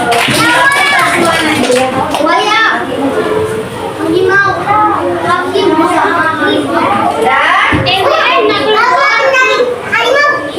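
Elementary school classroom where children clap their hands together in rhythm, mixed with lively kids' voices and chatter throughout, loud and close.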